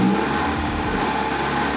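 A Mazda Miata engine with a blown head gasket, bubbling coolant and overheating, runs steadily up close with a continuous mid-low drone; a revving rise in RPM is not clearly marked.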